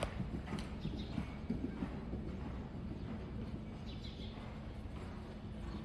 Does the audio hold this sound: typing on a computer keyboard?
no